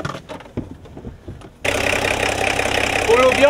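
A VW LT28 van's 2.4 diesel inline six is revved by pulling the throttle cable, its engine note kicking in abruptly and running steady and close, rising slightly near the end, after a stretch of quieter knocking sounds.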